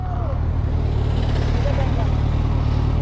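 The engine of a Hayabusa motorcycle with a double-silencer exhaust rumbles steadily and loudly up close, a deep low drone resembling a Bolero SUV, while people talk over it.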